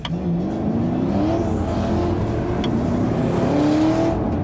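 A turbocharged car accelerates hard at a Barrett-Jackson auction, its engine note climbing steadily in pitch with a whooshing turbo whine, loud and close, with no voices over it.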